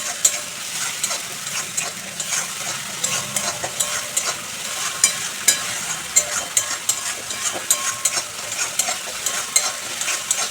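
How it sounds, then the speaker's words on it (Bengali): A spoon or spatula stirs and scrapes spice masala with a little water in a hot pan, the sizzle steady under a continuous rhythm of repeated scraping strokes, close and fairly loud, with no talk. "একটু জল দিয়ে মশলাটা ভালো করে কষিয়ে নেব"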